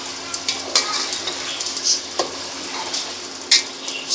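Chicken achar gosht being stirred in a pot with ground mustard seed, fennel and fenugreek spices, a steady soft sizzle of frying under intermittent scraping and clinks of the stirring spoon against the pot, close and fairly quiet, no talk.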